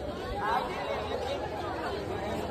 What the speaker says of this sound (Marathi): ज्या गल्लीत बघावं त्या गल्लीत फक्त गर्दी आणि गर्दीच दिसते।